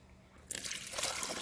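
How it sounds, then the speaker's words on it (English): Hot water poured into a car's windshield washer fluid reservoir to melt ice, a close splashing trickle that starts abruptly and keeps flowing steadily. "I use hot water and pour it into this thing so that we can melt the ice really quick"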